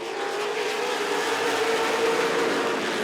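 Late model stock cars racing a 30-lap feature at Rockford Speedway, engines roaring steadily at full throttle with a sustained droning note from the pack nearby.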